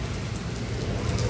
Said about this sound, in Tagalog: So raining, maulan,